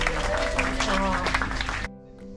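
Members of a bike tour group in Provence clap together, brisk hand claps mixed with chatter and voices, then the clapping stops abruptly and a quieter stretch follows with faint talk.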